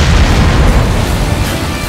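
A plane blows up in the Skydrift flying race game, a loud, dense, sustained explosive roar filling the whole moment with no break.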